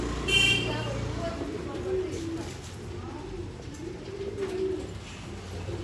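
An old line pigeon coos nearby in soft repeated throaty phrases while someone talks over it, with faint traffic and a brief horn-like sound in the background.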